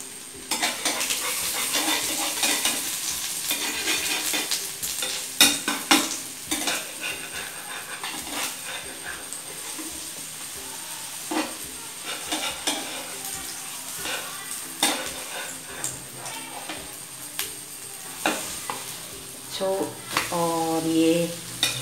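An egg paratha cooking in a pan over medium heat, with a steady close sizzle of frying and intermittent scraping and stirring clatter throughout, with no talking.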